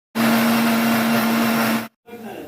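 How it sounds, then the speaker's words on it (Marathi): A mixer grinder blending mint leaves and coriander in water roars loudly for nearly two seconds with a steady motor whine, stops abruptly, then restarts more softly. "आता हे मिक्सरला वाटणार आहोत"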